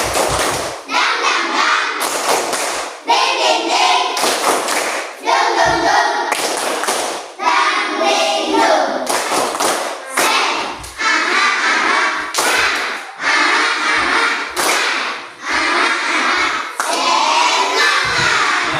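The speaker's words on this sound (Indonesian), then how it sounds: "Tepuk semangat dan dingdong." A school class performs a rhythmic spirit clap routine, bursts of group clapping and slapping alternating with children's chanting voices in a loud, patterned sequence.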